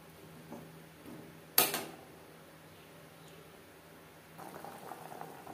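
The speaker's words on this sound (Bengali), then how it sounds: "বেশ ভালো করে ফুটতে শুরু করে দিয়েছে।" A tomato and jackfruit prawn curry boiling in a pot, a soft steady bubbling broken by one sharp clank near the start and livelier bubbling toward the end.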